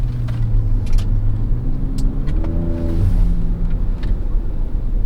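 A 2024 Ford Ranger Raptor pickup accelerating at full throttle on canyon roads, a loud, steady low engine roar heard from inside the cab with rising tones as it pulls through the gears.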